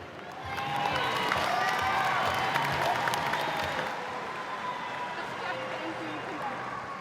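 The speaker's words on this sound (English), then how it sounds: "Another round of applause to Kezzy Apps" Crowd applause rings out at a State of Origin women's rugby league presentation, a broad steady wash of clapping and cheering that stays loud for several seconds, then eases slightly, with voices mixed in.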